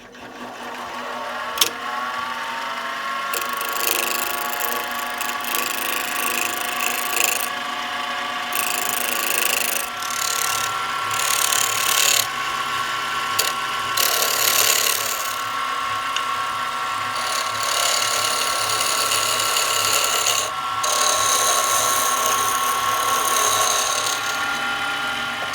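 A wood lathe turns wooden chopsticks while a skew chisel cuts near a sharp-cornered handle, giving a steady motor whine under a continuous scraping, chattering cut that holds close and loud, with no talk.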